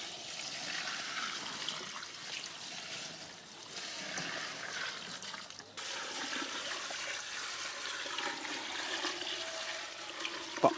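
Water streams and splashes steadily into a homemade dasagavyam bio fertilizer mixture, a continuous trickling pour with a brief break midway before the flow resumes, ending with a few knocks.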